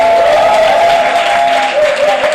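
Steady broadband applause from a church congregation fills the whole stretch, loud and continuous, with a sustained tonal ring running beneath the clapping.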